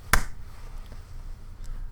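A single sharp finger snap or clap rings out once near the start, close and crisp, used as a sync marker at a stand-up comedy show, followed by quiet room tone.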